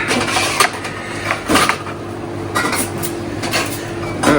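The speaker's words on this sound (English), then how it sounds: "And just double strain it to get all those wee bits of raspberry out." A raspberry Clover Club cocktail made with Talisker whisky being double strained through metal strainers, with scattered close metallic clinks and taps of barware over a steady low background hum, and no talking.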